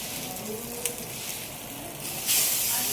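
Egg-coated fish pieces frying in hot oil for a spicy fish fry, a steady close sizzle and hiss that swells louder near the end.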